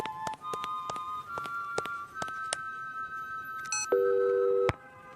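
Cartoon telephone dialing: a run of short tonal beeps and clicks at an irregular pace, then a flat steady tone signalling a dead line, fairly quiet with no speech.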